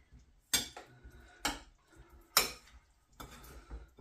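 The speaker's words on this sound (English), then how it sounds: "So I'll give that a mix round now." A utensil mixes cornstarch into a chicken stir-fry mixture in a bowl, striking the bowl in four sharp clinks at a slow, uneven rhythm with soft mixing in between.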